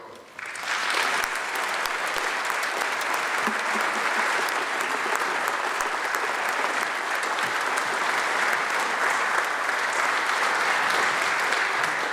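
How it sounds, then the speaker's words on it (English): Warm, sustained applause from a holiday concert audience in Peabody, a dense even wash of clapping that swells in after a brief quiet start and holds steady and loud throughout. "Let's give her a warm applause, Miss Kim Leroux."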